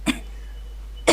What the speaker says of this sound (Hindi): तुम्हें खांसी वगैरह है क्या?